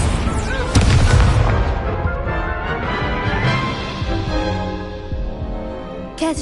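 Incendio fire spell cast in the video game Hogwarts Legacy during a duel, a loud whooshing burst followed by a sustained roaring, crackling rush that fades over a few seconds beneath musical tones.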